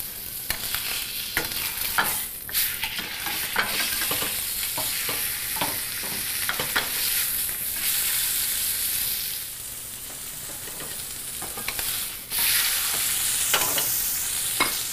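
A thick beef fillet sears in a pan over medium heat, a continuous loud sizzle punctuated by repeated short taps and scrapes of turning and moving the meat, close up and without speech.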